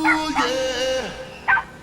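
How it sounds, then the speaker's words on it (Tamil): A short, high-pitched electronic ringtone of yapping dog barks, a few tonal yips in quick succession. "மேனேஜர் போனுக்கு நாய் குறைக்கிற சவுண்ட் ரிங்டோனா?"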